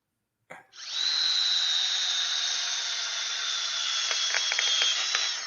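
A Ridgid subcompact power drill on speed 1 whirs steadily into wood at close range, starting abruptly and running continuously with a few brief rattling bumps near the end as the screw hole strips out.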